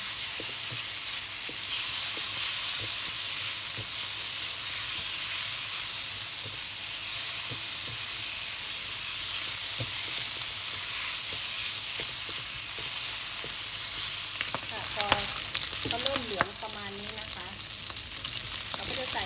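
Pork belly sizzles steadily in a dry pan with no oil, a loud continuous frying hiss with occasional spatula scrapes and stirring near the end, close up and without speech.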